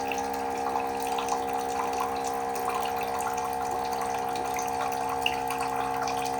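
Water pours steadily into a bottle, a continuous trickling stream with a faint ringing tone, moderately quiet, with no talking.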